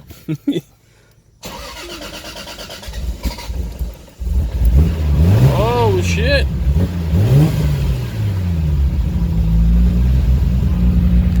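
A Toyota Supra MK4 fitted with a new FuelTech FT450 engine management unit cranks a few times, fires up and revs in rising and falling sweeps before settling to a loud idle, with a man's brief exclamation.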